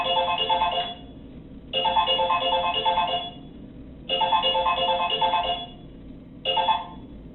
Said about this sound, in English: go ahead and answer the phone.